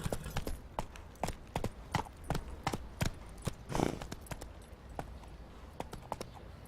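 A horse gallops in The Witcher 3 with a fast, even clip-clop of hoofbeats, fairly quiet, running through the whole stretch with no pauses.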